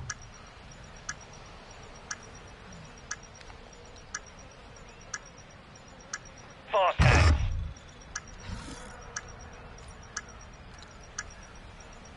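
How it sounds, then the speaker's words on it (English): A planted bomb device in the video game Borderlands 3 ticks at a steady rate of about one beat per second, crisp and close. A loud burst of game noise breaks in partway through. "Planting bomber Alpha. Saber, device is set. Stand by to detonate."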